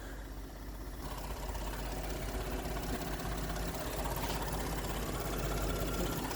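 High-mileage 2012 Ford F150 EcoBoost pickup with 222,000 miles idling close by, a steady ticking, sewing-machine-like mechanical chatter over a low hum that grows slightly louder toward the end.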